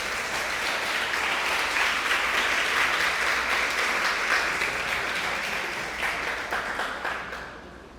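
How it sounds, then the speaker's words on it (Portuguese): A church congregation breaks into sustained, full applause, a dense roar of many clapping hands that holds steady and then gradually fades toward the end. "Então dá um aplauso ao Senhor Jesus."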